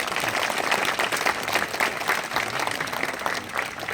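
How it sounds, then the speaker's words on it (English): An audience claps in a dense, steady round of applause at a supportive housing grand opening celebration, moderately loud and sustained throughout with no voices above it. "Let's give all of those early board members and leaders a big round of applause."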